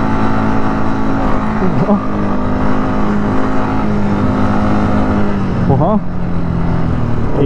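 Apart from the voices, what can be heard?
car driving off-road through Dubai desert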